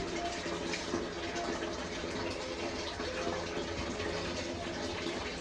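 Tap water runs steadily and close by while wheat grain, stored since 2023, is rinsed at home in several changes of water, a continuous splashing flow with no speech.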